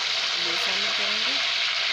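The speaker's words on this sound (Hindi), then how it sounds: "और इसको थोड़ा सा फ्राई करेंगे" Curry leaves, two bay leaves and cinnamon powder fry in hot oil, giving a steady, loud, continuous sizzle close by, with a few faint tonal clinks underneath.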